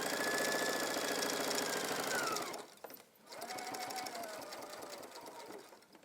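A sewing machine topstitches a waistband with a fast, steady mechanical whir that stops briefly, then starts again at a slightly lower pace, close and fairly quiet.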